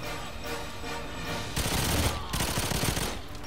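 Rapid automatic fire from the Vargen gun in GoldenEye 007 Reloaded rattles on continuously for several seconds, loud and dense, growing heavier partway through.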